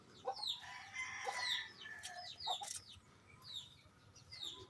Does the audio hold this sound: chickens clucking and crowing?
yes